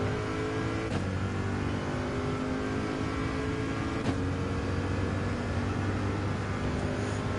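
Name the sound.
GT3 racing car accelerating in Gran Turismo 7 video game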